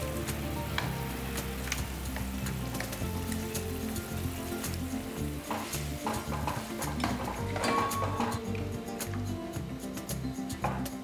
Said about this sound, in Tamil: நம்ம இந்த மசாலா அரைச்ச மசாலையும் இதிலே ஊற்றிடலாம்.